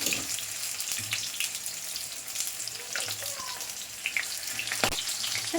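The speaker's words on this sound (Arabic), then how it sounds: "دابا غنقليهم بحال هكا تنقليهم ونرجع معاكم" Shrimp-filled briouats deep-frying in a pan of hot oil, a steady close sizzle and crackle with occasional louder pops and faint clinks, no voices.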